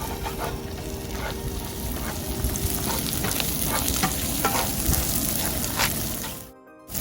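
Masala for an Anglo-Indian prawn roast sizzles and crackles in a pan with continuous close frying noise and stirring, cutting off abruptly near the end.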